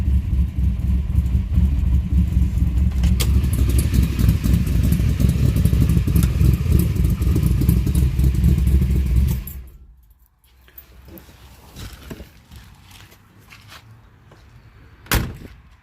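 A 1955 Chevy sedan delivery with a freshly installed engine runs loud and close with a rough, throbbing idle, then cuts off abruptly, leaving quiet shop clatter and a sharp knock near the end.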